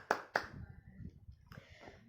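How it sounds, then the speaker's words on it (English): A young playgroup child claps hands twice in quick succession, sharp and close but quiet, followed by faint rustling and low background murmur. "Clap for yourself."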